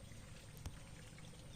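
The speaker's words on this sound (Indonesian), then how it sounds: "Kalau saya buka, airnya mengalir teman-teman." Water runs from an opened stop tap into a nutrient tank, a steady, fairly quiet pouring rush that continues alone with a brief splash or clunk partway through.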